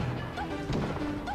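Down smash attack landing in Super Smash Bros. Melee during a Daisy versus Peach tournament match, a sharp crashing hit amid steady game noise and crowd din.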